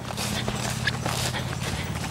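Draft horses walking across a big pasture, their hoof clip-clop steady and close against a constant low hum of background noise.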